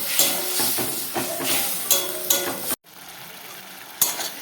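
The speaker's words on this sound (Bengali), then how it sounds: "একবার এটাকে ভালো করে কষিয়ে নেব" Spice masala scraped and stirred in a pan for a snail and potato curry, with close, repeated metal clinks and scrapes over a steady sizzle, then a sudden brief silence and one more clink.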